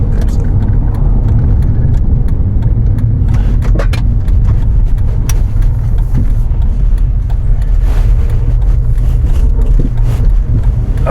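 A Dodge Charger with a badly shaking wheel drives along and pulls off the road, heard from inside as a loud, constant low engine and road rumble with occasional rattles and clicks, and no clear speech.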